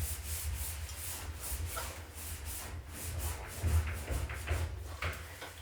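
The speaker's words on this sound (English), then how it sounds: "I'll just have to scrub longer here." A handheld scrubber rubs steadily back and forth over a surface in quick, even strokes, soft and close with no talking.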